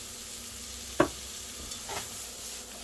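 Salted, peppered onions sweat in a pan over medium heat, giving a soft steady sizzle, with a sharp utensil clack near the start and a fainter scrape shortly after.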